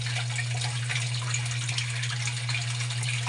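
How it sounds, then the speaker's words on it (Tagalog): A secret stream with clear running water gives a steady, broadband rush that fills the whole stretch without pause, close and continuous, with no voices. "Ngayon titignan natin yung running water nila."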